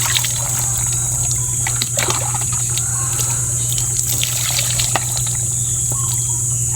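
Water poured over the head while bathing, a loud, close continuous splashing and trickling of liquid running down, steady throughout with scattered drips and a background hum.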